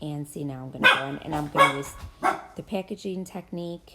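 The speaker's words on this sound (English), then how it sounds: "Sorry about my dogs barking." A few dogs bark somewhere in a home during a scrapbooking session, with two or three short, sharp barks breaking through while a person talks steadily over them.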